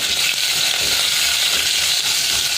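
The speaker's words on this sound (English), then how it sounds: "Mix it up." Chillies and a pinch of asafoetida frying in hot oil for Maharashtrian kadhi, a loud, steady, dense sizzle filling the whole moment with faint stirring, no voices.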